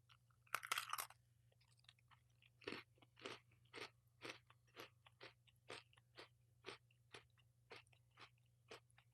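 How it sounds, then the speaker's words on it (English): Close, crunchy chewing of a dark chocolate Oreo cookie: a sharp bite at the start, then a steady series of about a dozen rhythmic crunches, no talk. "Takes a while to chew through all the layers."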